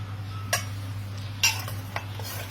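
A spoon clinks against a cooking pot three times while mutton is added onto layered rice for parda pulao, sharp metallic taps spaced apart over a steady low kitchen hum.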